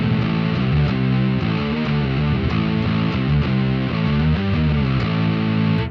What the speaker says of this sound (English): you get some distortion